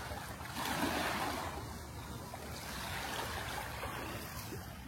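Sea waves wash onto the Konkan coast near Devgad as a faint, distant, steady surf roar that swells gently, with no one speaking.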